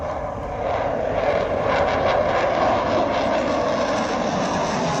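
Military jet aircraft such as Jaguar, Mirage or Su-30 MKI passing over an expressway in India: a steady, loud roaring engine wash that holds throughout without pause.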